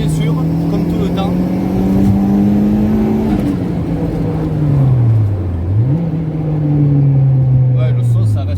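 A turbocharged 300-horsepower Honda Civic accelerates on a closed road, its engine note a steady, fairly subdued drone that rises, dips briefly around a gear change, then climbs again, with people talking inside the car over it.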